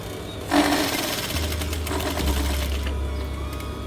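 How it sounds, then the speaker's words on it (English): Sewing machine stitching along the crease of fabric to attach bias binding, a steady fast mechanical whir running for several seconds, close and loud, with a low motor hum underneath. "we're going to sew on the crease here"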